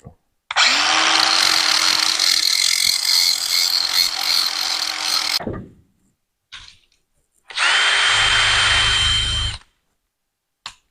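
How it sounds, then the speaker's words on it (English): A wire wheel spinning on a power drill, buzzing and scraping steadily in a long burst of about five seconds, then a short pause and a second burst of about two seconds, loud and close. "and then I have a wire wheel on my drill"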